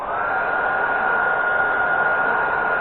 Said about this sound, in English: heat gun, kind of a cheaper heat gun that you get